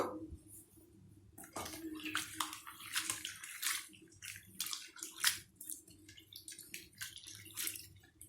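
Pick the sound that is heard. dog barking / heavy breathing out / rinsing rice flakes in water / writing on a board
rinsing rice flakes in water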